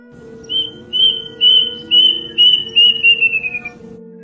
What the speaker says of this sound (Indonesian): itu adalah suara burung kedasi